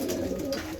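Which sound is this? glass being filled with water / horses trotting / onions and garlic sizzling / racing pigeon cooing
racing pigeon cooing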